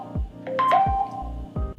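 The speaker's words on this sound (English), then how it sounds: "that was my phone" A mobile phone rings in a home kitchen with a brief, bright electronic melody of a few rising tones, heard close and clear among low thuds of cooking activity.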